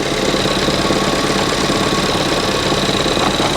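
A Ford Fiesta ST180 with a suspected vacuum line fault idles roughly and close by, giving a steady engine drone with slight knocking irregularity and vibration throughout, with no voices.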